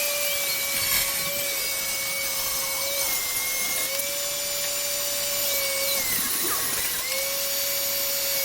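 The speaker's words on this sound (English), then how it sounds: "This miter saw here is very convenient because it has a line where it's going to cut." A miter saw motor runs steadily at a constant whine while cutting wood for kitchen drawers, loud and close with no talk, dipping briefly near the end before resuming.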